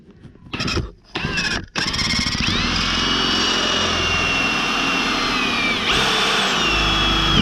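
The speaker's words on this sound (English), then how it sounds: "So I got a 7/32 drill bit" A power drill with a 7/32 bit bores into a Subaru Crosstrek door panel: a few short whirring bursts, then a long, loud, steady high-pitched whine close by.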